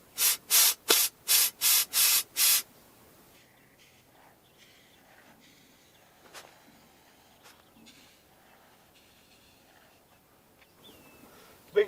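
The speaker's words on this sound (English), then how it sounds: "I'm going to use something called Tomcat rodent block, and it's expandable foam." Tomcat rodent block expandable foam sprays from a can in seven short, loud hissing bursts at an even rhythm, followed by quiet handling noises and faint bird calls in the background.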